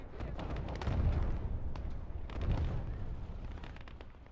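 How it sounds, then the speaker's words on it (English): Artillery barrage explosions in the Gates of Hell: Ostfront multiplayer battle: a dense, rumbling wall of blasts with two heavier booming peaks, continuous and loud throughout, with no talk. "Pretty good barrage from them, getting a couple guys so far."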